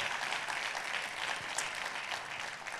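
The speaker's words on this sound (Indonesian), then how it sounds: "tepuk tangannya lebih dahsyat buat Yesus Tuhan kita" A church congregation claps in a broad, sustained round of applause during a sermon, an even wash of many hands heard at a moderate distance with no break.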